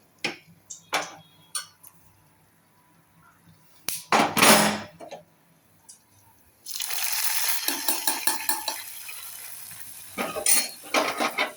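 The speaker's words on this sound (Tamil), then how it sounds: "சாம்பாருக்கு கறி வடகம் தாளிக்கிறோம்." Crackling and sputtering in a hot pan, with sharp clinks of a utensil early on, then a sustained loud sizzle as curry vadagam is fried for tempering sambar.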